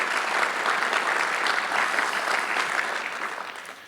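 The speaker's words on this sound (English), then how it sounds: "So let's give Tony and his team a round of applause." A ceremony audience at John V Hanson Career Center claps for Tony and his team; a full, steady round of applause from a crowd that gradually tapers toward the end, with no speech over it.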